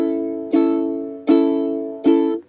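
Ukulele strumming through a chord progression, three bright full strums spaced evenly, each ringing out before the next, close and alone.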